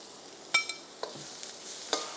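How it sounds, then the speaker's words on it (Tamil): Mushrooms and green peas sauté in oil in a pan, a soft steady sizzle broken by a few scattered light scrapes and clicks from stirring, quiet and close. "கட் பண்ணி வச்சுருக்க மஷ்ரூம் அதில் போட்டுடலாம்."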